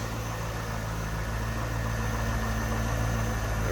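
A 1998 Chevrolet Corvette Pace Car Convertible's 345-horsepower LS1 V8 idles smoothly and steadily at close range, a constant low hum with no talking over it.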